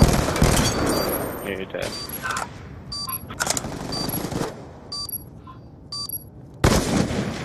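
Rapid gunfire bursts and single shots ring out in a search-and-destroy pickup match of an online shooter game, dense and loud at first and then sparser, with players talking over the action.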